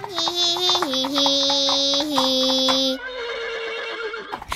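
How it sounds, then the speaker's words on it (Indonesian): A horse neighs in a farm animal children's song, a loud, close, wavering whinny repeated in a few bursts over backing music. "Kuda bilang hihihihi."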